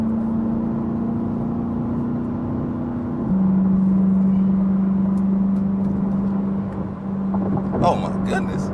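A C8 Corvette drives along, its engine a steady droning hum heard from inside the cabin, with a step down in pitch partway through like a gear change, and light rattles near the end.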